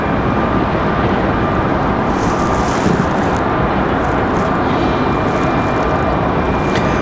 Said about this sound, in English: This is our Delta CRJ. Endeavor 5108 coming in from New York.